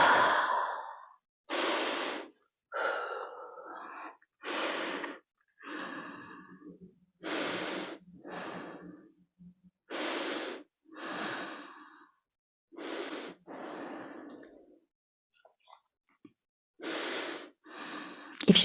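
Slow yoga breathing: a series of deep, audible inhales and exhales, each a breathy rush of air with pauses between, close and fairly loud with no talk over them.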